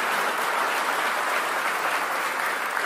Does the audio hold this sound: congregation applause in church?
yes